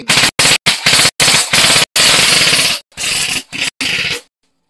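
Airsoft gun upgraded with a 130 spring firing in several loud close bursts of rapid shots, separated by short pauses, ending after about four seconds with no talking.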